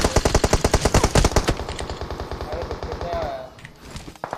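PUBG Mobile gunfire rings out as a rapid automatic burst of evenly spaced loud shots for over a second, then tails off into scattered fainter shots, with a voice briefly heard.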